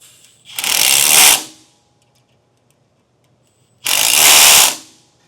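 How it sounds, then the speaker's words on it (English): Two bursts of rapid ratchet clicking from a 9/16 socket wrench tightening nuts on a B&W Companion sliding 5th wheel hitch in a 2024 Chevrolet truck bed, each about a second long, close and loud with a quiet gap between. "we'll tighten those down. This is a 7/32 Allen and a 9/16 socket."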